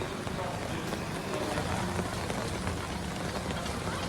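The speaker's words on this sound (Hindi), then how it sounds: "जहां पर देखिए कैसे बारिश हो रही है।" Steady rain pattering down in Nawada, Bihar, a dense, even hiss of drops on surfaces that runs through the whole stretch without letup.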